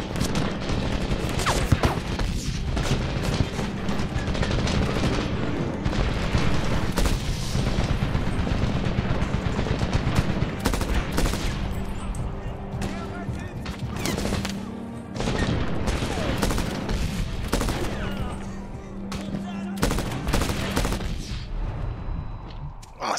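Dense gunfire from the 2010 Medal of Honor game played on PC: sustained automatic bursts and heavy booms, with a few louder blasts standing out over continuous combat noise and no clear talk.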